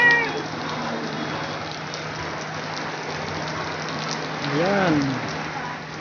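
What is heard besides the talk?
rain falling outside a church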